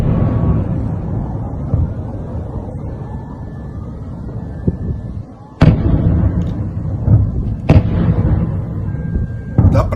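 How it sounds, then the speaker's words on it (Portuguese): Blasts from an ammunition depot in Melitopol, Ukraine, ring out over a constant low rumble, with two or three sharp explosions standing out near the end. "dá para ver que tem várias explosões aqui"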